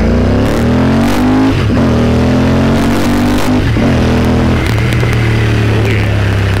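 A 2019 Royal Enfield Interceptor 650 fitted with a BoosterPlug pulls away from a dead stop on the clutch alone, its engine note climbing through several gear-like steps, loud and close with no talking.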